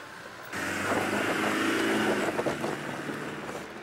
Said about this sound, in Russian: Ну, как видите, все колеса гребут, и машина едет.